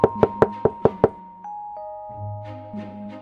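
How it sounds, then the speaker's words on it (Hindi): Knocking on a house door at night: six sharp, evenly spaced raps in quick succession, loud and close, followed by sustained chime-like tones. "एक साधु आया और ढोलू के घर का दरवाजा खटखटाया।"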